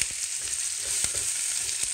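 Chopped onion sizzles in hot oil with green chilli and asafoetida, a steady crackling fry with a few sharp spatters, close and fairly loud, no voices.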